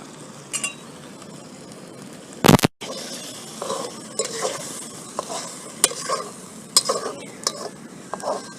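Chicken karahi paste fries in a little oil while a spoon scrapes and stirs it in a pan, giving a soft sizzle broken by repeated clinks and one loud clatter early on.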